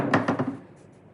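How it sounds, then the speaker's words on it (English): A few light, quick hammer taps on a wooden mitre shooting board in a row, sharp knocks that fade into a quiet room tone. "Gentle tap with a hammer."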